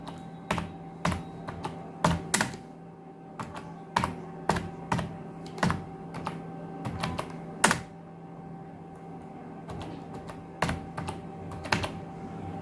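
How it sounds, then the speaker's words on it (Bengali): Typing on a computer keyboard with caps lock on: sharp, close key clicks in irregular bursts, some keys struck harder than others, over a faint steady hum and without any voices. "ইয়ত ক্যাপিটাল লিটারে লিখি, ক্যাপস লক অন করে দিলাম।"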